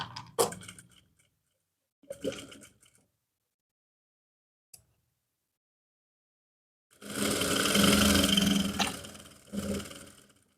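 Sewing machine stitching pleats into trousers, running in a short burst, then another, then a longer steady run near the end, loud and close with no talk.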